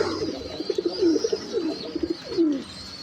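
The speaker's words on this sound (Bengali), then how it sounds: "সাদা বোম্বাই কবুতর যারা একেবারে ভালো কোয়ালিটির" White Bombay pigeons coo close by in a short run of soft, throaty, rolling calls with brief pauses between them, with no voices.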